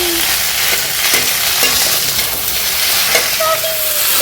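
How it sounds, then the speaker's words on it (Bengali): Beef sizzles loudly in a wok over full heat, a dense continuous frying hiss broken by scraping stirs, close and loud, with no talking. "কড়াই আছে ভেজে ফেললে, আর এগুলো একটু কড়া আছে ভাজতে হবে, একদম ফুল জাল দিয়ে"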